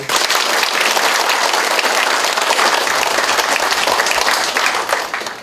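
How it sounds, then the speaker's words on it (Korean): A hall audience at a Korean local town visit by the city mayor bursts into loud, dense applause that holds steady for several seconds, then begins to fade at the end. "이분들께도 큰 박수 보내주세요."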